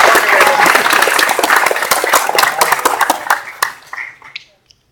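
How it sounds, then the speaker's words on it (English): Audience applause at an evening political rally fills the room with dense, loud clapping that gradually thins and fades to scattered claps and silence. "Ladies and gentlemen, please, a nice round of applause"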